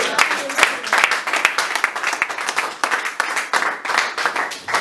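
Church congregation in Aalst, Belgium applauding and clapping during a Sunday evening service, a dense, sustained crowd clap with voices mixed in throughout.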